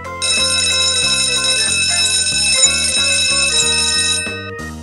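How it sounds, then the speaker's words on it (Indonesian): School bell signalling entry to an exam, heard as a loud electronic melodic chime. Repeated tonal notes play steadily for about four seconds, alone with no talk, then stop. "bunyi bel tanda masuk ujian pun berseru kencang"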